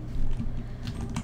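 Someone types on a computer keyboard while coding CSS, a quick close burst of several key taps with a couple of louder strokes near the end.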